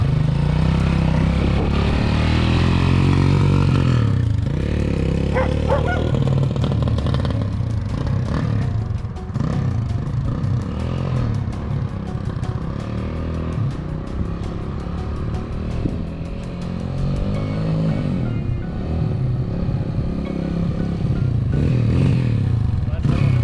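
A Honda XR200 dirt bike in restoration with a carburetor in need of work runs loud and close, its engine revving up and down continuously with rattling clatter throughout.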